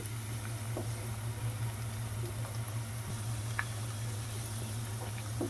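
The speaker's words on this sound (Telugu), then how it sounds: "ఉల్లిపాయ ముక్కల్ని కూడా అయితే యాడ్ చేసుకుందాము చక్కగా లైట్గా బ్రౌన్ కలర్ వచ్చేంత వరకు అయితే వేయించుకుందామండి" Onion pieces frying in a pan at home until light brown, giving a soft, steady, even sizzle over a low background hum, with no voices throughout.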